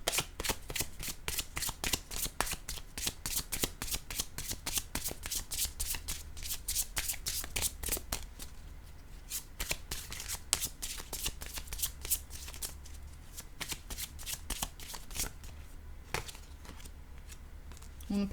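Tarot-style cards shuffled by hand for a reading, a dense run of crisp riffling clicks and flutters repeating for the whole stretch, steady and close, with no talking.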